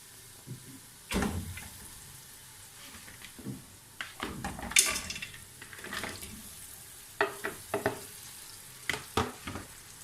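Goat trotters frying in a pan with spices, with intermittent scraping stir strokes and soft sizzling, close and moderately loud, no talk.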